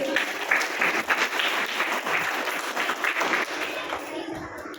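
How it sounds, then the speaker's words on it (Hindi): A school audience at an Independence Day function applauds to welcome co-host Utkarsh Yadav with loud, steady, dense clapping that tapers off near the end. "जोरदार तालियों से इनका स्वागत कीजिए।"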